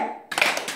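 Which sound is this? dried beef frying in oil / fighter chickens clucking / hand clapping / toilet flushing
hand clapping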